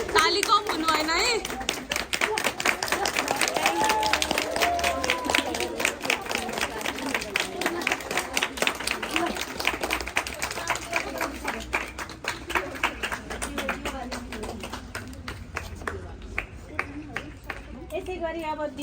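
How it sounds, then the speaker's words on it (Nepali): An audience claps at the inauguration of a nutrition exhibition run by nursing students at SCoT Chitwan, Nepal, with rapid, rhythmic applause sustained for many seconds before thinning toward the end, and voices talking underneath. "ताली कम हुनु भएन है।"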